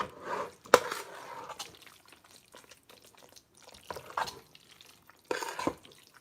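Melting cheese being stirred in a pan for chicken spaghetti, with soft wet scraping and sloshing strokes and a few sharper clinks. The sounds are close and intermittent, with quiet gaps between them.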